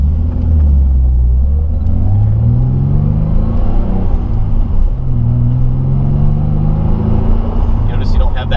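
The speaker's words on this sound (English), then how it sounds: "So even sitting here in neutral, without the clutch pressed in, the transmission makes a lot less noise." A Nissan 300ZX twin turbo idling in neutral with the clutch out gives a deep, steady low rumble, close and loud, with faint transmission noise under someone talking throughout.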